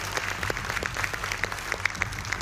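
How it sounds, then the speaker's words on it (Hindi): Moderate, steady audience clapping welcomes panel guests on a political television debate show, a continuous patter of claps without speech. "प्रोफेसर अजय उपाध्याय, प्रवक्ता कांग्रेस पार्टी के, तालियां बजाइए भाई उनके लिए भी।"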